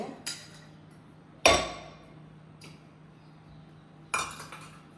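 A steel tea strainer knocks and clinks against a metal pot in a kitchen, making a few sharp, separate metallic hits with quiet gaps between them and no talking.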